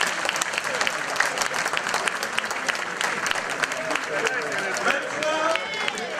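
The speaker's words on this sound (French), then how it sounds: "je vous demande de nous applaudir" Audience at an Ivorian public event clapping in a dense, lively burst, many hands close by with a few voices murmuring underneath throughout.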